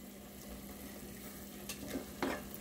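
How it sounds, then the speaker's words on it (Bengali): Spices are stirred and sautéed in a pan before Qurbani beef goes in, giving a faint, steady sizzle with a few soft scrapes of the spoon near the end. "এখন এটাকে আমি ভালো করে নেড়ে চেড়ে কষিয়ে দেন আমি মাংসগুলো দিয়ে দিব"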